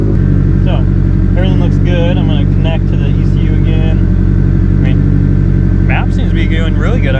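A BBR 700 engine idles steadily at its first startup on pump gas, a loud, continuous low rumble that runs throughout while someone talks over it.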